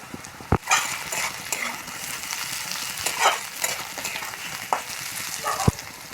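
Carrot and chopped capsicum stir-fried in a pan for jeera fried rice, with a steady sizzle under repeated scraping strokes of a spatula and a few sharp clinks against the metal, close and moderately loud, no talking.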